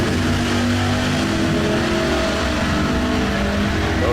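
A 1969 Chevrolet Camaro and a rally-striped 1973 Camaro launch off the line in a bracket drag race, their engines roaring loud, close and continuous for the whole stretch without letting up.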